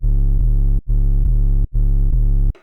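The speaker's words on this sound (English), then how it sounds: "for the sub bass, it's just a sine wave with a lot of distortion and compression and EQ" A Serum sub bass made from a sine wave with heavy distortion, compression and EQ plays three loud, sustained, buzzing low notes, each cut off sharply by a short gap.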